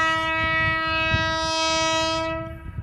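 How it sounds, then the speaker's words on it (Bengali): A Shatabdi Express train sounds a loud, sustained horn as it arrives at Begunkodar railway station, the blast ringing for over two seconds before cutting off into rumbling wheels. "বাবা কি সাউন্ড ট্রেনের"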